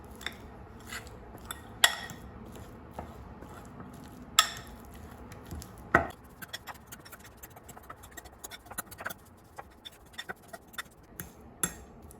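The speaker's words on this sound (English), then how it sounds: "And now mash it" A utensil scrapes and taps against a bowl while mashing baked potato filling, giving sparse, quiet clinks and knocks at irregular intervals in a near-silent kitchen.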